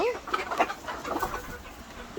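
Chickens recovering from illness cluck and call excitedly in short, uneven bursts close by, expecting to be fed, with the sounds fairly faint and overlapping.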